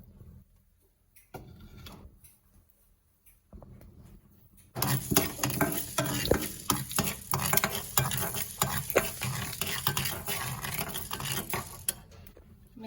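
Black peppercorns dry-roasting in a pan for a pepper rasam, quiet at first, then a busy crackle and rapid scraping rattle as a spoon stirs them, close and continuous.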